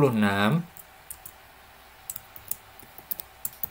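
A voice speaks briefly, then soft, scattered clicks of a computer keyboard follow as a formula is typed into Microsoft Excel, quiet and irregular against a near-silent background.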